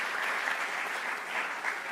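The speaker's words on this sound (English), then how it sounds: "A round of applause to our faculty members." Graduation ceremony audience applauding the faculty, a brief, even burst of many people clapping together, fairly loud and filling the room, with no voices over it.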